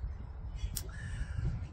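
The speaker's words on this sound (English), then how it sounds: "hearing the birds in the background, being out in the backyard again" A single crow caws once, clear and fairly near, over a steady low outdoor hum in a spring backyard.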